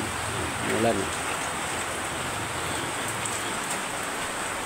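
Steady rain hiss fills the scene, a dense broadband patter with a brief murmur of a voice early on.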